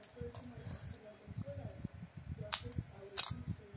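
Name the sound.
Canon EF film SLR camera shutter firing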